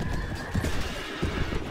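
A horse in Mount and Blade battle whinnies loudly while hooves clop in an irregular rhythm, layered over dense combat noise and a steady game soundscape.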